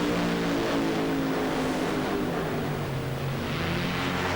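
Funny car drag racing at NHRA Indianapolis in 1994, a roaring engine drone heard from a distance with a continuous rumbling tone that holds steady throughout, with no voices over it.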